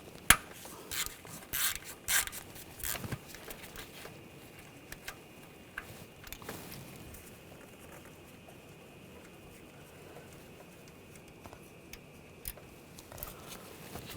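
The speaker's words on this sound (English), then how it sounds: "Using a 10mm socket, take this bolt out." A ratchet with a 10mm socket loosens the camshaft position sensor bolt on a 2014-2020 Nissan Rogue 2.5L, making faint close clicks and rubbing taps, busiest at the start and then sparse.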